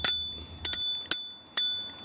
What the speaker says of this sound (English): I found out I have a bell.